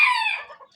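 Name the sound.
chickens clucking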